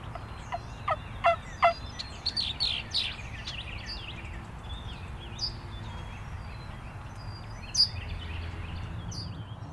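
Wild turkey gobbler calling in spring woods, several sharp bursts of gobbling and clucks spread across a quiet outdoor background, moderately close.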